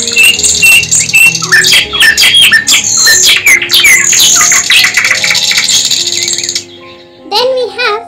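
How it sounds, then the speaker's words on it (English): A songbird chirps and tweets loudly and close, rapid bright calls and squawks packed together over several seconds, ending with a few separate chirps. "The sounds that a songbird makes are chirrup, chirp, tweet,"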